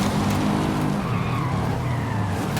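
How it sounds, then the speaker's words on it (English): A Subaru Brat in Forza Horizon 5 scrubs its front tires while turning, producing a continuous skidding squeal over a steady engine drone, loud and close with no talking. "Kind of the front tires slipping when it turns."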